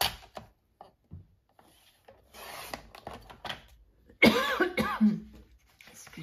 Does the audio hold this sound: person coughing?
yes